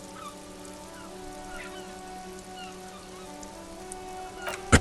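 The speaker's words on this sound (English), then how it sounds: "Rain falls onto the roof of a woodshed." Steady rain patters onto the roof of a woodshed in Disco Elysium, a soft continuous hiss with scattered drops and a low tonal hum beneath, ending in a sharp closer knock.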